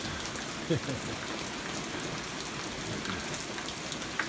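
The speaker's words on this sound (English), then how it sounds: "Here's another one of those liquid sunshine situations where it's raining, but the sun is shining." Steady rain falls in a sunshower over pasture near a creek, a soft, even wash of drops on surfaces with a few brief nearby taps, heard alone.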